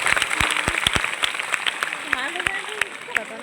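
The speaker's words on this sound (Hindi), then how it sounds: "भगवान सर के लिए जोरदार तालियां।" Scattered claps ring out for a teacher at a school Teacher's Day celebration, sharp and uneven, with voices and cheering mixed in over the applause.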